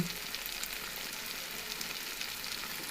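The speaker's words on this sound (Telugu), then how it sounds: "బొంబాయి రవ్వ వేసుకుందాం" Bombay rava semolina tipped into a hot pan for tomato bath and stirred, giving a steady soft sizzle and frying hiss close up, with no voices.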